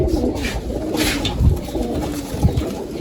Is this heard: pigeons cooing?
yes